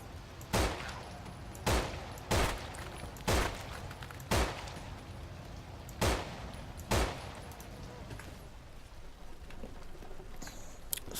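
Gunfire in the zombie shooter No More Room in Hell: about eight single sharp shots spaced roughly a second apart, loud and close, then the firing stops.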